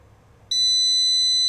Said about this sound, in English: The alarm rings for a while, then shuts off.